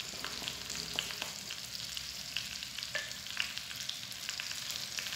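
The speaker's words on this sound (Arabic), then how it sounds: "غنخلي تقلى مزيان هاد البصلة" Chopped onion and garlic frying in a pan as a base for a Moroccan tajine, giving a steady soft sizzle with small crackles and occasional scraping, moderately quiet and without talk.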